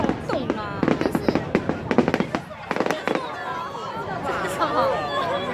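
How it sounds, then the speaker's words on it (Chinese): Fireworks exploding above a festival crowd at Dadaocheng in Taipei, a quick volley of loud crackling bangs that eases into a softer rumble while onlookers chatter and call out over it. "爆炸烟火"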